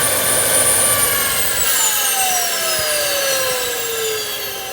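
A homemade jet engine with an afterburner on a DIY jetbike runs at full power, a loud continuous roar with a high whine that slowly glides downward as the speed eases off.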